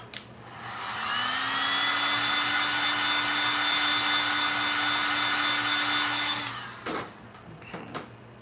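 A hair dryer blows on paint on a canvas, starting up and holding a steady, loud whirring hum with a constant pitch for about six seconds before it clicks off, followed by a few brief handling knocks.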